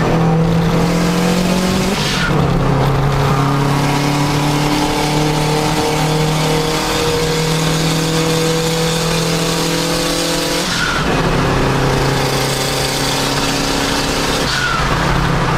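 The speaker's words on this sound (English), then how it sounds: "The turbo spooling, with an external wastegate maybe, and the blower valve going off." Turbocharged car engine in the Gran Turismo racing game pulls hard and steadily, with turbo whine and a sharp blow-off valve hiss at each shift, loud and continuous.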